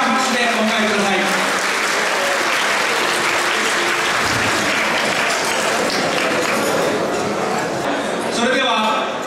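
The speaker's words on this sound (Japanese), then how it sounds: "皆様、盛大な拍手でお迎えください。" A concert audience at a country music show claps loudly and continuously, a dense, steady wash of applause, with voices faintly mixed in.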